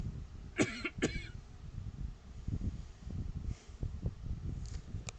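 A couple of muffled coughs close by near the start, followed by faint rustling and low background noise.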